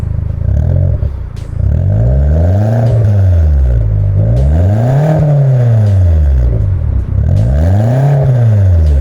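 A Mazda2 SkyActiv engine breathing through a short-tip JTC Titanium exhaust revs up and drops back in several loud, close swells, each climb and fall clearly audible with a steady idle rumble between them.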